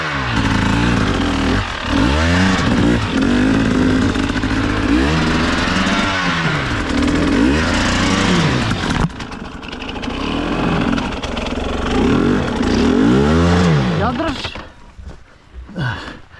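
A motorcycle engine fires after a push start and runs loudly, revving up and down in repeated surges with rough sputtering. The engine dips away near the end.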